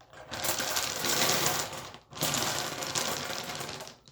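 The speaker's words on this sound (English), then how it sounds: "they're little wooden balls, so they do make a little bit of a racket" Little wooden balls rattle and clatter inside a turning lottery drum during a giveaway draw, a dense continuous racket close by with a brief pause midway before the tumbling resumes.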